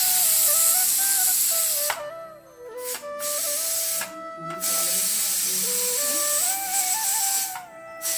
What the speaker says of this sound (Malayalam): ഇത് വെന്തെന്ന് തോന്നേ, കുറച്ച് ആവി കളയണം.